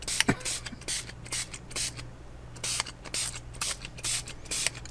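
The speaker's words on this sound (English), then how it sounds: "I have to give it some more water. I need a new spray bottle." A quick series of short hissing spritzes from a spray bottle, repeated in uneven bursts with brief pauses, close by.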